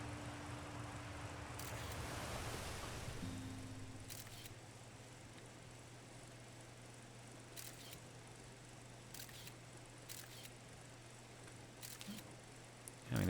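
Satellite camera in the Outer Wilds video game snapping pictures while orbiting Timber Hearth: a string of short, crisp shutter clicks at irregular intervals over a steady low hum, with a brief whoosh near the start.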